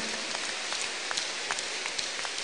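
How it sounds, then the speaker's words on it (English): A church congregation claps together as an offering to Jesus during a Thursday deliverance service, a dense, steady patter of many hands with scattered sharper claps standing out, continuous throughout. "A big clap offering to Jesus."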